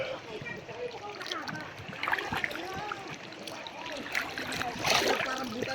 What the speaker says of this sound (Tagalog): Nandito tayo sa gitna ng dagat